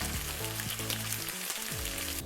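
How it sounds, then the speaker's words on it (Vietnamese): Chicken breast deep frying in hot oil, a steady dense sizzle and crackle running close and loud throughout with no voices. "Các bạn để ý chiên cho đến khi nào mà cái phần ức gà nó vàng thì các bạn vớt ra nhé."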